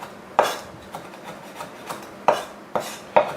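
A knife chops summer squash on a cutting board in a steady rhythm of about ten crisp knocks, several louder than the rest, close up and with no talking.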